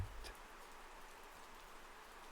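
Raindrops fall onto a pond's surface on a moonlit night, a faint, even patter and hiss that continues steadily throughout, with a soft thump at the very start.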